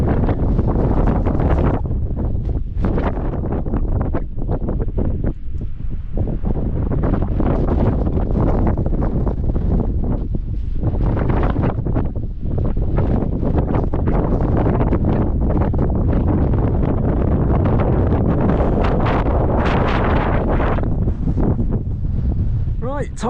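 Strong wind buffets the microphone on an open hillside along a Welsh mountain hike, a loud continuous roar with gusty surges and rumbling low rush throughout.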